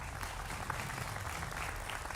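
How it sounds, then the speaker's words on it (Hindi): Applause from a studio audience on a Hindi television debate show, a dense, even wash of clapping heard fairly faintly over a low background rumble for about two seconds. "आपके लिए जोरदार तालियां।"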